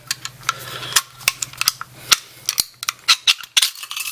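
Baikal Makarov CO2 BB pistol being field stripped, a run of sharp metallic clicks and snaps from slides and parts, irregular and close, with no voices.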